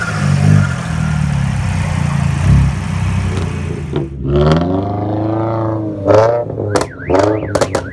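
Brand-new Ferrari in a parking lot at a car meet: a low crowd rumble gives way to the engine revving, with several sharp rising blips and a final burst of quick throttle stabs.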